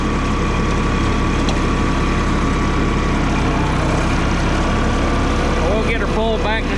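A loud, close International 464 tractor engine runs continuously in third gear with a steady mechanical drone, a faint squealing chirp appearing near the end.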